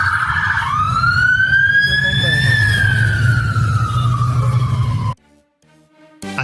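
A loud fire engine siren wails close by on a London street, its pitch sliding upward and then falling as it passes over heavy traffic rumble, then cuts off abruptly.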